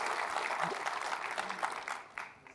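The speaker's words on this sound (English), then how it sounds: "Round of applause for Fabrizio." A conference audience gives a short round of applause, a dense patter of many hands that swells and then tapers away with a few last claps.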